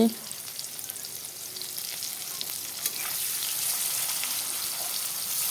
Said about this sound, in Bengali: দেখো এখানে পেঁয়াজগুলো দিয়ে দিলাম পেঁয়াজগুলো লাল হয়ে যাক